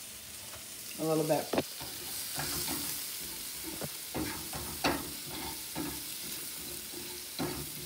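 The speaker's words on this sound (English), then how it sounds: "I put a little olive oil in there and a little butter. And let this saute" Potato pieces sautéing in olive oil and butter, crackling and sizzling steadily while a spatula stirs and clacks against the pan, with a few brief spoken words over it.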